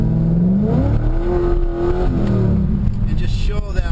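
Pushrod V8 car engine, roughly 500 horsepower, revving on a road test, a throaty drone rising and falling in pitch with someone talking over it.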